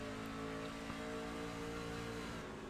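A racing truck engine in a Milwaukee video game race drones loudly and steadily at mid pitch, its tone holding with small shifts like a downshift, with no talk over it.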